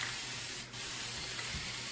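Paint hisses steadily from a spray can onto a surface during a craft painting technique, a close continuous spray with a brief break in the middle.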